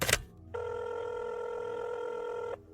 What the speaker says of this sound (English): Then she reached over and grabbed the phone